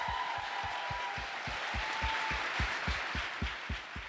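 Audience applause for a mayor at a Charlotte, North Carolina event with the Vice President, steady and dense, with a regular low thumping beat underneath throughout.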